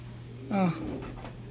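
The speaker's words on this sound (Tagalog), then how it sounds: "Ito yung ating mga ibon." A single short bird call, a soft pigeon-like coo, rises briefly over a steady low hum.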